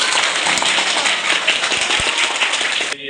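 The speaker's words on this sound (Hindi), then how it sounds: "पहले उसके लिए जोरदार ताली मारिए पहले" Loud, dense applause from a crowd at a school farewell ceremony, sustained clapping that fills the whole stretch before cutting off abruptly at the end.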